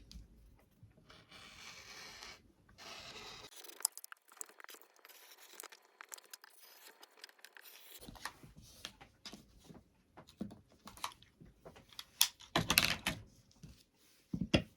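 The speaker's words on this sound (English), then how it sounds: "So I'm going to go ahead and cut out this square." Scissors cut out a square of fabric for a washcloth, giving intermittent close snipping and rustling of the cloth in irregular bursts with quiet pauses between.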